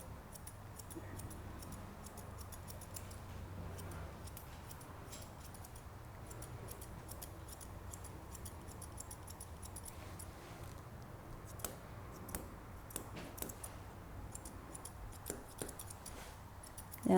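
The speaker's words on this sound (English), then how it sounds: "Again, curved scissors around the other way." Curved grooming scissors snipping through a Bichon Frisé's coat, quiet crisp clicks in intermittent runs that grow denser toward the end over a soft steady hum.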